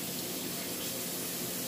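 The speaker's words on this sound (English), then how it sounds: "I'm just going to rinse this off." Steady rush of tap water running into a kitchen sink as a dropped spoon is rinsed off, a continuous near hiss with no talk.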